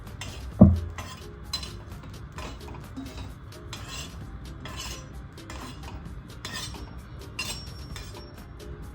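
Roasted dried fish (sukat) rinsed in clean water, with steady clinks and scrapes of a metal vessel and utensils. A sharper knock comes near the start, and the light clatter repeats close by with no talking.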